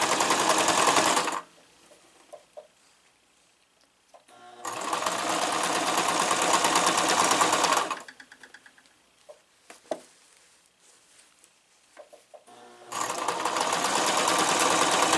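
A sewing machine stitches skirt panels for a gothic fairy dress in three loud, steady whirring bursts of a few seconds each, separated by quiet gaps with small handling clicks.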